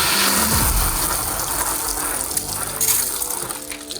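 A homemade blood sprayer rig blasts water in a loud continuous gushing spray that tapers slightly toward the end, with no voices.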